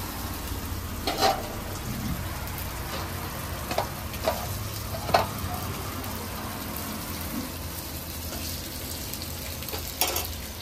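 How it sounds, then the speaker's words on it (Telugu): Chicken frying in a pan in a home kitchen, a steady soft sizzle with occasional sharper pops and crackles spread across the stretch, fairly close, with no talk. "ఇప్పుడు చికెన్ ఫ్రై అయితే అవుతుందంట."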